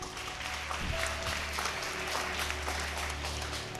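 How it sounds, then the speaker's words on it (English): Steady, faint audience applause at a house masquerade event honoring orphanage founders, a dense distant patter over a low electrical hum. "Let's have a big round of applause for these people."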